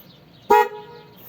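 A newly installed dual horn on an e-bike gives one short, loud honk, a bright tonal blast lasting a fraction of a second before a fading tail, with no talking.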